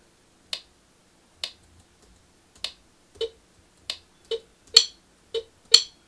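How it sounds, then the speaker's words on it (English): A series of sharp, dry wooden drumstick clicks, about nine in all, spaced irregularly roughly half a second to a second apart, crisp and close in quiet surroundings. "there's our first stick click"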